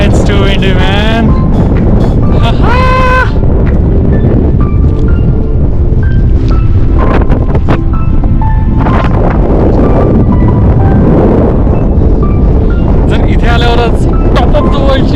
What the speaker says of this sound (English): It's too windy, man.